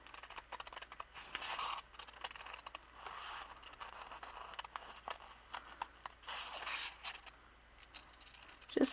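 Scissors cutting fabric for a doll leotard pattern, soft close snips and rustles repeating irregularly, faint and quiet throughout.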